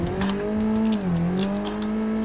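A car laps Sportsland Yamanashi circuit in second gear, its engine droning with a steady tone that dips briefly as the revs fall and then rise again, close and loud.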